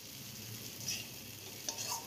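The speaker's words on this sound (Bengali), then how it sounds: "এবার পেঁয়াজ রসুনগুলো ভালো করে ভেজে নিয়ে" Onion and garlic fry quietly in a pan, a faint soft sizzle with a couple of light stirring clinks over about two seconds.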